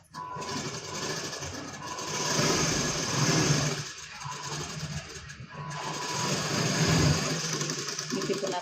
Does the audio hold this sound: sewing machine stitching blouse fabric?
yes